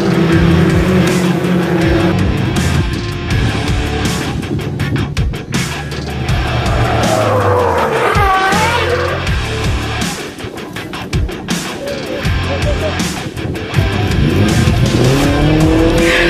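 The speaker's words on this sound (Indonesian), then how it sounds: "hanya bisa bengong melihat Mas Diki tergelincir tadi" BMW race car on a wet, rain-soaked circuit at an Indonesian club race, engine roaring loudly throughout with tyre squeal and skidding swells, continuous and close with no talk.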